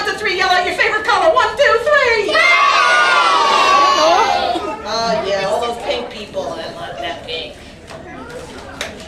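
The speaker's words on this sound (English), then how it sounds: "Everybody on the count of 3, yell out your favorite color." A crowd of children at a museum magic show shouts out answers all at once, a loud burst of overlapping high-pitched yelling and cheering that peaks early and then fades into scattered chatter.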